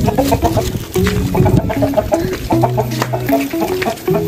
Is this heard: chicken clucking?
yes